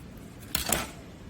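A single brief snip-and-crunch of scissors cutting through mohair, a short close sound amid quiet.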